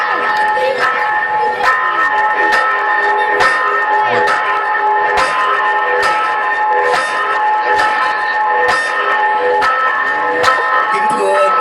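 Church bells peal from the tower of Quế Phương parish church at a Christmas celebration, loud sustained ringing tones with regular strikes about every second, overlapping one another in a continuous wash with faint crowd noise beneath.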